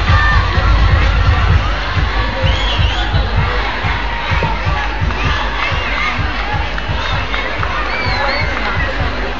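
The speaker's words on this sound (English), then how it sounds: "A round of applause, please." Audience at a high school cheerdance competition cheering and shouting for a team, a dense, loud, continuous roar of voices with excited yelling throughout.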